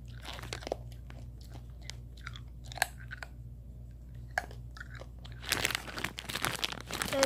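Someone chews a hard Warheads sour candy close to the mic, with sharp crunches and bites scattered over a quiet hum, growing denser and louder near the end with crinkling.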